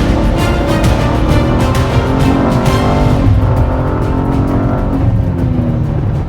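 A modified car under acceleration, its engine a loud, continuous roar heard from close up, with the pitch rising through the run and a shift in tone partway through, and no voices.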